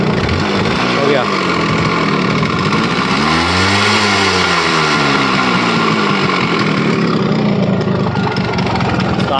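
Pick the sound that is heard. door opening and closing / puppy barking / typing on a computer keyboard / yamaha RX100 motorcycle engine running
yamaha RX100 motorcycle engine running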